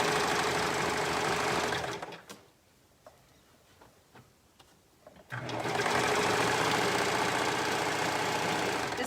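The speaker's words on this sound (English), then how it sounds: "now we're gonna sew the other arm" A sewing machine stitching the sleeve of a shirt made from thin, stretchy fabric: a loud, close, steady mechanical whir that stops for about three seconds of faint ticks and handling, then resumes just as strongly.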